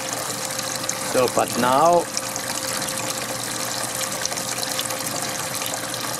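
A strong stream of water gushes continuously from the outlet of a descaled 1998 Force/Tracker 50 hp outboard motor, a steady splashing wash under a man's brief speech.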